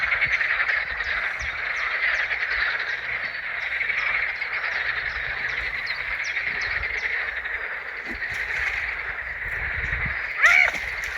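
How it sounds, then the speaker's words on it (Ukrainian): Frogs croak steadily at a pond, a dense continuous chorus of repeated calls running throughout, with faint rustling and a brief higher chirp near the end. "І жабики квакають, і все."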